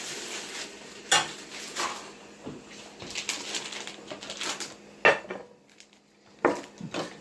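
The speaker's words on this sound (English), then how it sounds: "I'm going to grab me a plate, which I actually have right over here." Plates and dishes clatter in a kitchen while shrimp alfredo is being made, with three sharp ceramic knocks standing out among softer handling noises and quiet stretches.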